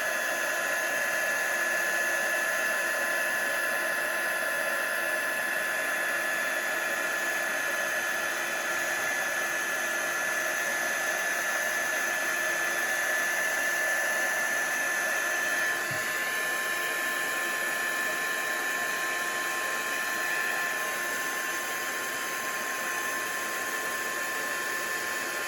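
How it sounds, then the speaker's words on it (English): Steady whining roar of a heat gun blowing hot air as it melts embossing powder on a stamped card image, continuous and close for the whole stretch with a slight pitch shift partway through, no talking. "I'm moving the heat gun over the image."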